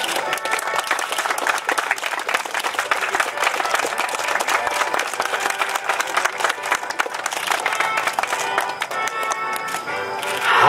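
Steady, dense applause from an audience at a cycling criterium award ceremony in Iwaki, sustained throughout the clip and swelling slightly at the end.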